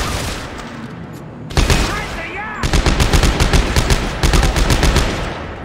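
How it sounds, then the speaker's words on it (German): Rapid bursts of automatic gunfire from a weapon in Dead Space 3 empty a whole magazine, loud and close, with sharp repeated shots in quick rhythm after a brief pause and some game effects. "Super, ganzes Magazin daneben geschleudert."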